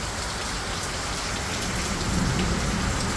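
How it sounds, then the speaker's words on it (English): Heavy rain pours steadily in a thunderstorm, loud and close, with low thunder rumbling beneath the downpour toward the end. "Oh my god, it's thunder as well."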